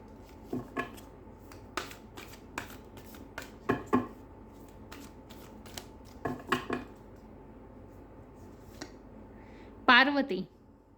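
Tarot cards shuffled and snapped in a quiet room, giving a string of short papery flicks and taps, with a brief riffle near the end, under a soft voice speaking Hindi.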